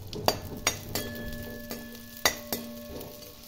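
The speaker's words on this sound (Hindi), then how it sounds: "अब हम इसमें ऐड करेंगे ड्राई फ्रूट्स, इसको अच्छे से फ्राई कर लेंगे" Dry fruits frying in hot ghee give a soft steady sizzle, with a handful of sharp stir clinks and scrapes from the spoon scattered across it, close up and without talk.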